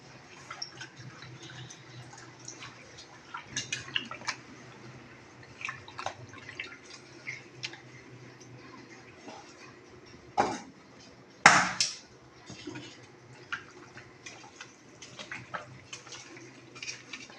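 Liver being rinsed with water in a home kitchen, with faint drips, splashes and occasional louder clanks and sloshes as it is handled in a vessel, quiet and close throughout.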